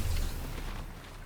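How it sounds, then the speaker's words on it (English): Gunfire in a multiplayer shooter game with infantry rifles and six-shooters, a dull booming shot followed by a short rumbling decay, muffled and moderately loud. "There's like 5 people shooting at me."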